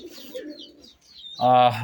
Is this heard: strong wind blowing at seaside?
no